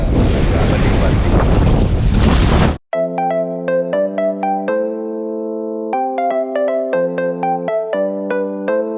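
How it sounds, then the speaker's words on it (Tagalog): Strong wind at the sea buffets the microphone with a loud, roaring, broadband rush for nearly three seconds, then cuts out abruptly and gives way to music with plucked tonal notes. "grabe ka hangin karon"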